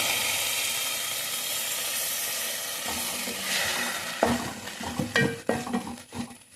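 Coconut milk splashes into a hot pan during Kerala-style karimeen (pearl spot fish) cooking, giving a steady close sizzle and hiss, then clinks and scrapes of stirring with utensils against the pan, with no voices.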